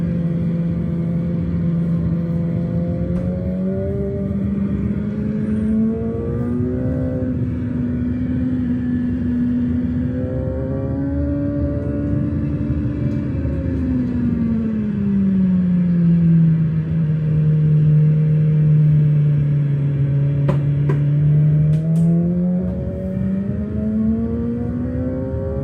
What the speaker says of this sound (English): So you can hear the throttle, listen. Slow, trail off, back to throttle.